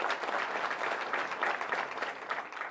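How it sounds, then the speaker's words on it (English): An audience at a corporate announcement of a new Chief People Officer breaks into steady, dense applause, a sustained wash of many hands clapping without voices. "let's pause for an applause."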